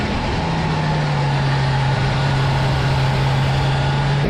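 Motorcycle engine in a trail-braking riding demonstration, holding a loud, close, steady drone with a constant low tone throughout and no clear rise or drop in revs, with no voices.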